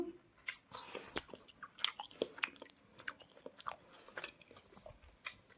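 Someone chews a mouthful of fish close up, with wet irregular bites and small crunches coming in quick succession, and no voice present.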